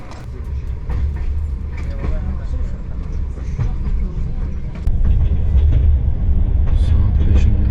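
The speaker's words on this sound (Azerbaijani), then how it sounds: "Qatar Nevlaq stansiyasını tərk edib Şəki doğru gedir." Passenger train moving along the railway after leaving a station toward Sheki, Azerbaijan, a continuous low rumble and rattle of the carriages with talk over it throughout.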